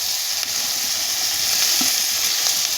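Boiled, salted and drained taro leaves hit a hot pan and are stirred for a Bengali dish with hilsa fish head, giving a loud, steady sizzle with faint stirring scrapes close by.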